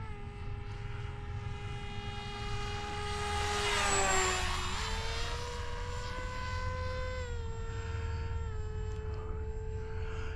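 An FF-35V2 RC model plane with a 6-inch propeller flies overhead. Its steady buzzing drone rises in pitch as it passes close at about four seconds, then continues at a more even pitch.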